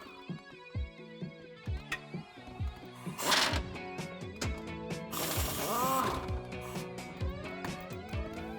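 Ratcheting socket wrench loosening front bumper nuts on a 2019-2021 RAM 1500, bursts of clicking pawl with metallic clanks and pauses, close up, no talking.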